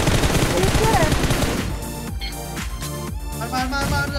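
Rapid gunfire bursts in the Nusa map of a battle royale video game, loud and dense for the first second and a half, then sparser, punchier shots with brief gaps, under the game's mix.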